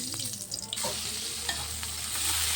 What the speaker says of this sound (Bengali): কুচি করা পেঁয়াজটা তেলের মধ্যে দিয়ে দিলাম